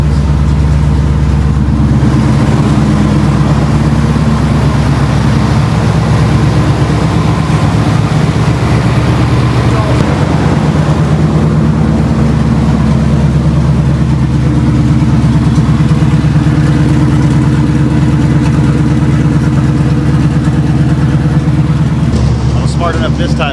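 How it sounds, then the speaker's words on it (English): The EFI engine of a Chevrolet squarebody truck idles steadily after a cold start following a night of sitting, giving a continuous loud rumble up close with a brief rev change near the start and end, while someone talks over it. "That was a cold start, been sitting all night long. Of course, EFI fired right up."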